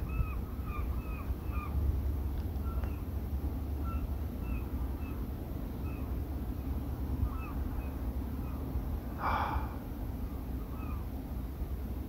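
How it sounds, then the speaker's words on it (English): Seagulls cry in a series of short, repeated calls, somewhat distant, over a steady low rumble of wind or water, at night near city buildings. "Listen to the sound of those seagulls."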